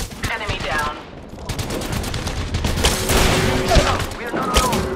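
Rapid gunfire fills a match of the battle royale game Apex Legends, dense automatic bursts and shots layered with game effects, loud and close, with voices calling out over the shooting.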